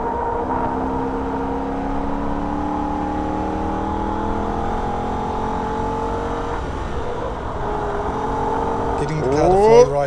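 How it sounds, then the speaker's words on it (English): A Holden VF Ute racing the Nürburgring at wide open throttle, its engine droning steadily with rising and falling pitch, then a quick sharp rev sweep at the end. "turn the car in and go back to wide open throttle for a brief moment"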